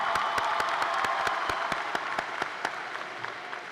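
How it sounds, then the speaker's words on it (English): A crowd applauds steadily at a high school graduation ceremony, the clapping thinning toward the end, with a few distinct claps standing out near the close. "Please give her a round of applause."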